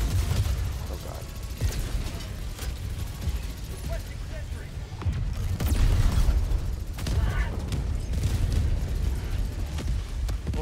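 Rumbling explosions and bursts of gunfire from a Helldivers 2 battle against Automatons roll on continuously, dense and fairly loud, with a voice talking over the chaos.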